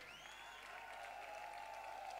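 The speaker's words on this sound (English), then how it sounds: "Give him another round of applause." Faint, steady audience applause for a German bluegrass band at an outdoor festival in La Roche, continuous clapping with a sustained whistle or cheer riding over it.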